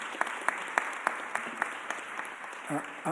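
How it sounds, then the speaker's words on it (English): Applause at a mayor's press conference, a sustained wash of clapping from a gathered audience with a few sharper claps standing out and a brief voice near the end. "Let's give her a big round of applause."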